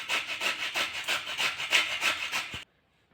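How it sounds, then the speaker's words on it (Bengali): Cauliflower rubbed against a kitchen grater, a rapid run of about a dozen rhythmic rasping strokes, close and fairly loud, stopping abruptly near the end with no talk. "আমি একটা গ্রেটার নিয়েছি। গ্রেটারে ফুলকপিগুলো ঘষে"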